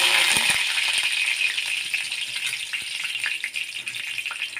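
Curry leaves hit hot oil in a kadhai for a spicy stuffed capsicum tempering, setting off a loud, hissing sizzle that starts strongest and stays steady, with faint crackles and a metallic rattle mixed in.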